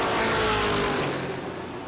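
Pro stock race cars roar at Lee USA Speedway in 1993, a loud engine rush that sweeps past and slowly fades over a couple of seconds with no voices.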